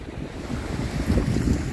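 Sea waves wash ashore at a beach under gusting wind that buffets the microphone, a close, rumbling surge that swells and eases with no voices.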